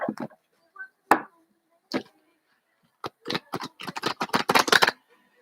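A deck of reading cards being handled: a few scattered sharp card snaps, then a rapid flurry of crisp riffling clicks as the deck is shuffled and cut, close up.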